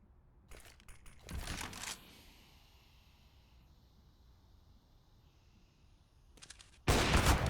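Gunfire in the Counter-Strike game on the Overpass map: a few short bursts of shots, one burst early and a louder burst at the very end, with quiet stretches of background between.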